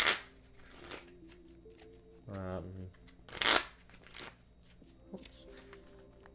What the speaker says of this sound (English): Shuffle up.